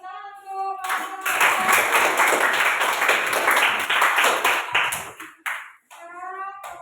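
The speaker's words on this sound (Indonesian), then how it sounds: "tepuk tangan untuk" A school class clapping hands together in a classroom, a burst of brisk many-handed applause lasting several seconds, with a voice speaking briefly before and after.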